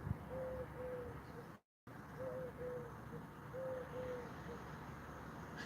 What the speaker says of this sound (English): that's probably legitimately a pigeon